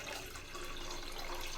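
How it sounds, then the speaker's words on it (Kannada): Water pours steadily into a heated cooking pot while making ragi porridge, a continuous broadband splashing rush that runs without a break and without talk. "ನೀರು ಎಷ್ಟು ಬೇಕು ಅಷ್ಟು ನೀರನ್ನು ಹಾಕ್ಕೊಳ್ಳೋಣ"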